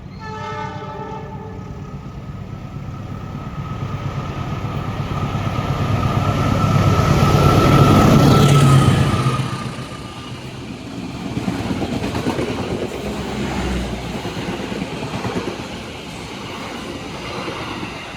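Wijaya Kusuma passenger train with mixed executive and economy cars sounds its horn in a long blast while approaching, then roars past up close, its wheels and carriages rumbling on as the horn fades.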